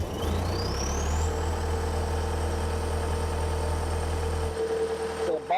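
Diesel engine on a Doppstadt trommel screen running with a steady low drone and a rising whine settling into an even idle, loud and close, before cutting off near the end.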